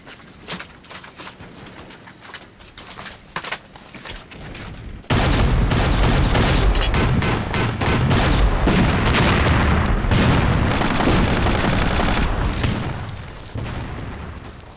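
Heavy machine-gun fire and artillery explosions in a Chinese anti-Japanese war film battle: scattered shots at first, then a sudden loud, sustained barrage of booming blasts and dense gunfire that fades near the end.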